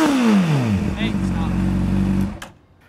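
A Honda CBR600 motorcycle engine revs down and settles into a steady idle rumble, then cuts off near the end.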